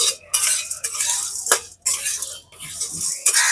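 Whole spices, including cumin, coriander and fennel, dry-roasting over low heat in a pan, heard as close, repeated bursts of spatula scraping and rattling separated by short pauses, with a faint sizzle underneath.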